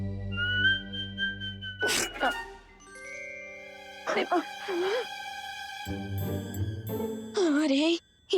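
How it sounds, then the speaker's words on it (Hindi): A sneeze bursts out around the two-second mark in a Hindi fantasy TV comedy scene, set among whistling, tinkling magical tones and sustained musical sounds, with a short vocal outburst later. "अरे ये छींक कैसे आ गई?"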